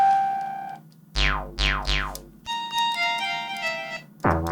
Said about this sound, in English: You can change your synth sounds like this.